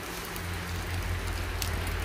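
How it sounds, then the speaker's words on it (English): Steady rain falls on a rooftop, a dense, even hiss of drops that holds at constant loudness for about two seconds with no other sounds. "it's raining on the rooftop"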